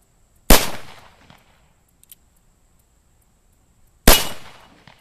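Two sharp, loud gunshots from a Cimarron El Malo II .45 Colt revolver with a 3.5-inch barrel, fired about three and a half seconds apart outdoors, each cracking sharply and then ringing away into a long decaying tail.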